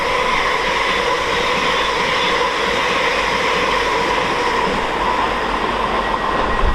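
A Class 801 train roars through Doncaster station at speed, a loud continuous rush of wheels and rail noise with a steady bright rumble filling the whole stretch.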